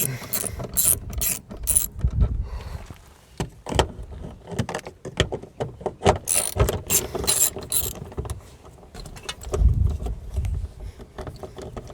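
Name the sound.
ratchet wrench and socket removing power window switch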